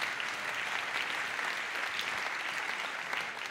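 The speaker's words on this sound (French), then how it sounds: "On les applaudit très fort tous les 5." Sustained applause from an audience at a French real estate awards ceremony honouring winners, a continuous even roar of many hands clapping, moderately distant and without pause.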